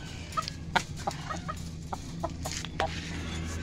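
A colourful rooster in an aroused state, freed and going for a person's feet, clucks in short, sharp bursts over a steady low hum, close and fairly loud, with scattered scuffling between calls.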